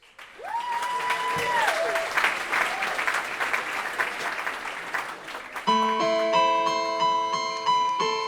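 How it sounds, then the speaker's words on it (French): Audience applause for a slam poet at a local college talent show final, a dense wash of clapping under a live stage mix, with steady background tones and a voice entering as the applause continues. "Applaudissez Marc Hanté"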